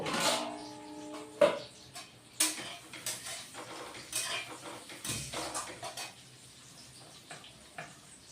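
Fried potatoes tipped into a pan of rohu fish curry, with sharp metallic clinks of a spoon against the pan followed by softer scraping and stirring, close and fairly quiet.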